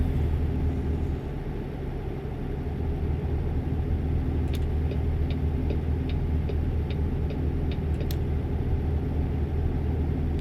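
Peterbilt 389 truck engine in American Truck Simulator, a steady deep diesel rumble close and continuous, with faint high clicks ticking through the middle.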